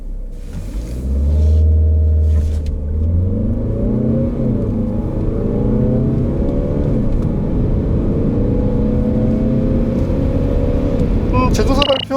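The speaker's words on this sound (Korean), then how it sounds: "V60 D3의 가속 성능에 대해서도 한번 알아보시죠" A 2017 Volvo V60 D3 diesel wagon with a six-speed automatic accelerating from a standstill, a deep droning engine rising in pitch through several smooth gear changes, heard steadily from inside the cabin with no one talking.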